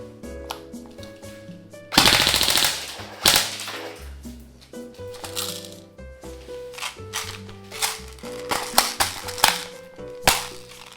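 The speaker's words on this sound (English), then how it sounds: "let's go shoot some guns" Airsoft guns from an Evike box firing outdoors in bursts and single shots, with sharp snapping cracks and rapid rattling volleys, close and loud, with gaps between strings of shots.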